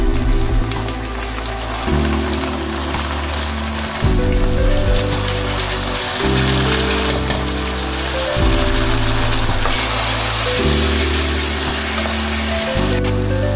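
Tomato paste frying in a pan with lightly browned onions: a steady, dense sizzle like rain on a surface, with background music throughout.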